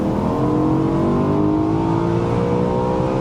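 A BMW M3 E93 engine accelerates in second gear, heard from inside the car as a loud, steady roar whose pitch climbs smoothly for three seconds with no gear change and no voices.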